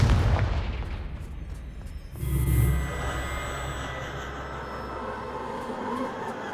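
In the Hogwarts Legacy video game, a Confringo explosive spell lands as a deep booming blast. A low rumbling roar follows and fades into a sustained, hissing ambient tail.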